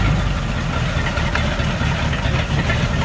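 The engine of a low-budget demolition derby car idles with its exhaust cut off and its fuel leaking, a loud, rough, raw rumble with a steady low throb, running close by with no talk over it.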